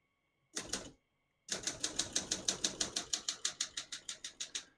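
Keys strike on a 1971 Olympia SM9 portable manual typewriter, a brief burst then a steady run of sharp, evenly paced clacks, close and clear with no voices.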